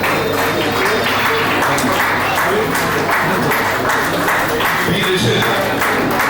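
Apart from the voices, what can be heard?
audience clapping for prize winners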